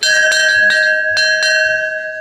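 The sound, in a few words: bell sound effect for YouTube notification bell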